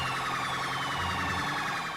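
A police siren in Grand Theft Auto V wails in a continuous, warbling electronic tone, steady and fairly loud, with a faint engine rumble underneath.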